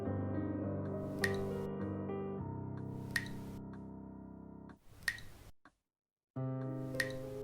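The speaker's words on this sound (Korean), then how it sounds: "마치 물방울 소리처럼 들렸지만 분명 방 안에는 물 한 방울도 없었다" Slow, evenly spaced droplet plinks ring out over sustained electronic musical tones, with a short silence before the music returns.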